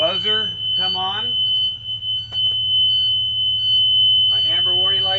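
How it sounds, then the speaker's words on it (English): A steady, high-pitched electronic bus warning buzzer sounds continuously beneath a low hum inside a bus, while a person talks at the start and end. "The lights and the buzzer come on."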